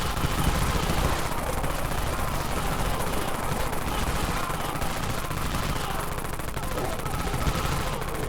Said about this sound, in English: Let me try out the Dawn SMG or Dawn Minigun real quick.